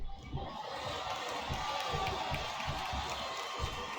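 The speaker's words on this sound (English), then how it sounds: "Now the fans start to cheer for him." Game crowd in WWE Smackdown vs Raw 2008 cheers steadily as a wrestling match goes on, a continuous arena roar with thuds and a faint voice mixed in.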